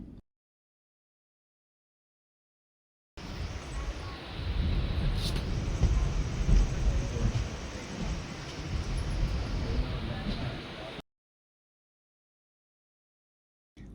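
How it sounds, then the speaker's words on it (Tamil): A passenger train runs between Nagapattinam and Velankanni at moderate speed, giving a steady loud rumble and rattle that fades in and cuts off again, with no voices. "நாகப்பட்டினம் டு வேளாங்கண்ணி ரீச் பண்ணுற அந்த கேப்பில் இன்பிட்வீன் கேப் ட்ரெயின் ரொம்ப ஸ்பீடாகவும் போகலை, ரொம்ப ஸ்லோவாகவும் போகலை"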